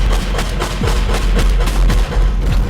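Rapid gunfire in the game Teardown, a dense run of loud, punchy shots in quick succession with booming low thumps, close and continuous across the whole stretch, no speech.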